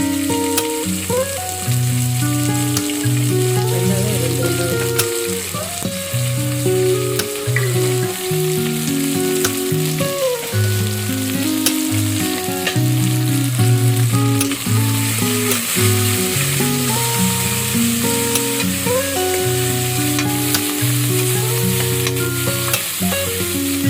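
Oil sizzles and crackles continuously as spices fry, a steady hiss running beneath prominent background music throughout.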